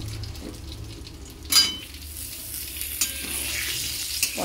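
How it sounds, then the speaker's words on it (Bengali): Pointed gourd frying in oil in a pan as potatoes are tipped in, with a steady sizzle broken by a sharp burst of hissing when they hit the pan and then smaller pops. "পটলগুলো দেখুন হালকাভাবে ভাজা হয়ে গেছে, এরপরে আলুগুলো দিয়ে দিলাম"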